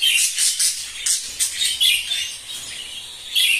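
Many budgerigars chirp and twitter in a breeding aviary, a dense, continuous chorus of high, bright tweets close to the microphone, with no talking.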